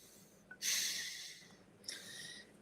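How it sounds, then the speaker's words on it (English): Two loud, hissing breaths out through an anti-snoring device, the first long and strong, the second shorter and weaker, heard up close with no talking. "I don't so much make a noise when I breathe in, but I do when I breathe out."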